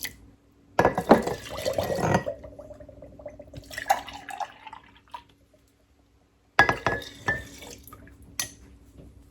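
Milk poured from a carton into a bowl of batter alongside dairy-free vanilla yogurt, a steady liquid splash with clinks of a container, then a quiet pause before another short burst of pouring and clatter.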